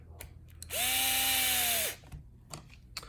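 A power drill or driver briefly whirs at close range, a single steady burst of about a second, driving M3 flathead screws into an RC drag car bumper for a Losi 22S, with faint handling clicks before and after.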